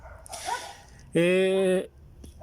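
The neighbours' small dogs bark and whine nearby. One sharp, tonal yelp stands out loudly among shorter whimpers.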